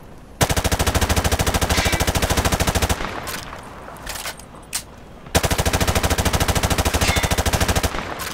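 Automatic weapon fire in Modern Warfare 2 at a target range, two long, loud, close bursts of rapid, evenly spaced shots separated by a few scattered single cracks.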